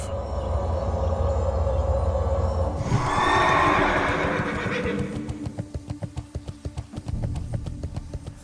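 A horse in World of Warcraft Classic gives a loud whinny near a lake cove, followed by a run of quick, rhythmic hoof clops as it moves off.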